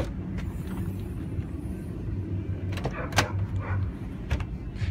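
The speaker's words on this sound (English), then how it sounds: "So we will pop the back open here for you." The rear door of a 1998 Toyota Land Cruiser is popped open, with a low idling rumble underneath and a few clicks and latch knocks close by.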